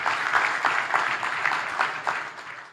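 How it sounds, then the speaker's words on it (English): Church congregation clapping during a healing and deliverance service, a steady wash of many hands with rhythmic accents, moderately loud in a reverberant room. "Clap for Jesus."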